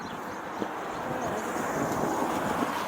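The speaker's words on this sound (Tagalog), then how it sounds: "Medyo mahangin pero hindi siya malamig." Steady wind roars across the microphone, a broad continuous whoosh filling the clip with no clear pauses.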